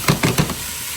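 Onions and garlic sizzle in oil over medium heat, a close hiss broken by a few quick stirring scrapes before settling into a steady frying sound, with no talking.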